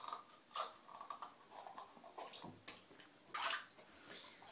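A dog gets a bath in a tub, with quiet splashes and sloshing water arriving in short uneven bursts, close by and without talking.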